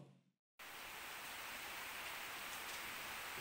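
Heavy rain pours down over a flooded town centre, a dense, steady hiss that starts abruptly and holds evenly at full strength for the whole stretch.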